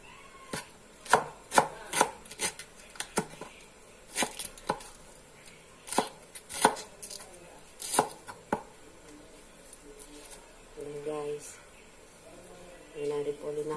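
A knife chops cabbage thinly for pancit guisado in a run of crisp, uneven cuts, some in quick bursts and others spaced apart, with a voice talking quietly in between.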